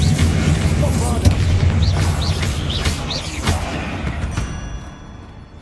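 Bombarda spell explosions in the video game Hogwarts Legacy: a loud, booming low rumble with several sharp thuds, plus brief chirping effects and a trailing fade toward the end.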